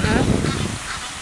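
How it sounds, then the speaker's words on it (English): Several geese honk loudly nearby in a short, overlapping burst of harsh calls that fade slightly toward the end. "Are those geese or ducks? Ducks? Oh, geese."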